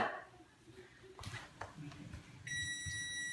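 A kitchen timer for boiling eggs beeps in a steady high-pitched tone near the end, following soft clatter and quiet background sounds.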